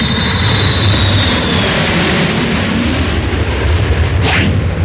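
Loud, steady roar of an airplane engine filling the air, broad and rumbling without pause.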